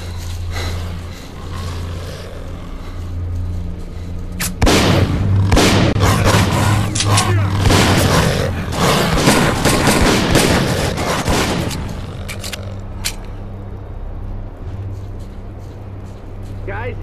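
Gunfire in S.T.A.L.K.E.R.: Clear Sky in the Red Forest, a loud cluster of shots and booms over a low droning hum, with voices talking around it.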